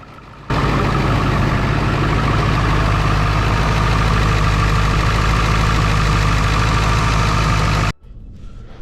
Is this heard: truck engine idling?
yes